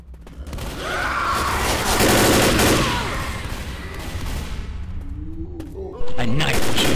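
Heavy gunfire in Left 4 Dead, steady loud bursts layered with game noise that swell early, ease off and then return with a sharp jump near the end, with chatter mixed underneath.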